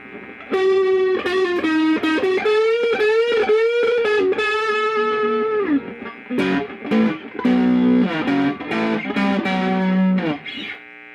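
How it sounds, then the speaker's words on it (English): Steve Brown Sound SBS VS300 HSS electric guitar played through the neck pickup with overdrive, a run of sustained distorted notes and chords ringing out clearly, pausing briefly midway before more phrases and a final fading note. "Now let's try the neck with the overdrive."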